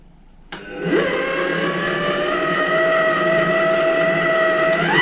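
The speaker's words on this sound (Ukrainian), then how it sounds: "В чашу міксера відправляю 400 грамів вершкового масла кімнатної температури і починаю масло взбивати до біла." A stand mixer whipping 400 grams of room-temperature butter until white for a Napoleon cake, its motor starting abruptly and ramping up in pitch, then holding a loud, steady whirring hum to the end.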